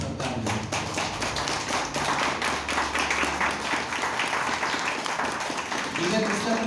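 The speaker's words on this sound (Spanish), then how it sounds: "Dale un aplauso al Señor en esta tarde." A church congregation claps along in a quick even rhythm, crisp hand taps repeating throughout at moderate distance, with voices and singing running underneath.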